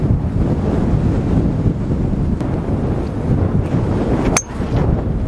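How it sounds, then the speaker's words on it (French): A headwind on a seaside golf links course buffets the microphone, a loud, continuous blustery rumble with gusts throughout and a brief sharp click near the end. "Un bon vent de face."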